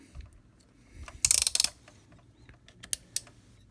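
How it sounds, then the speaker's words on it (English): Ratcheting plastic hip hinges on a Newisland Dinobot Robot Blasters Tyrannosaur toy being moved, a quick run of close, crisp clicks followed by a few isolated single clicks, with no talking. "He's got the rotating or the ratcheting hinges at the hip, ratcheting hinge here, a ratcheting hinge right below that"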